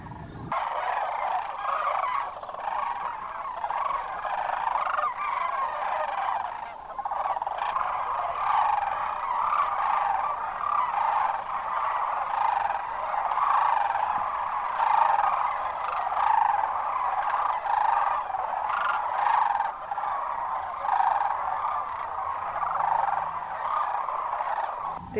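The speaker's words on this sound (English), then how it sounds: "I had no idea this many cranes would be arriving here this evening." A large flock of cranes calls continuously at a migration pond in Arizona, a dense, steady chorus of rolling, overlapping bugling that holds at an even level throughout.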